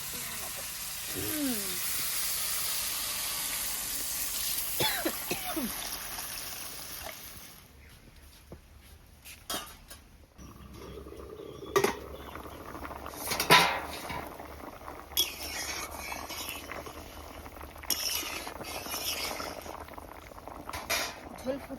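Water is poured into a pan of frying duck eggs, setting off a loud hiss and bubbling sizzle that later calms to softer crackling with clinks of utensils.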